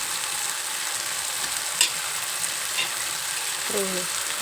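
Cluster bean curry being stirred in a hot pan with chilli powder and salt, a steady soft sizzle with a couple of brief spoon scrapes against the pan.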